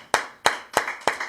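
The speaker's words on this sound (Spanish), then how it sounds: "¿Por qué no le damos un aplauso al Señor Jesucristo?" Congregation clapping in church: four single, evenly spaced, sharp hand claps in a quick steady rhythm, close and clear.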